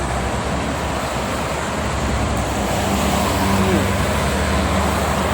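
Steady, loud traffic roar on the Jakarta-Cikampek toll road in the late afternoon, with tour buses among the passing vehicles, a continuous broadband rumble that swells slightly toward the end.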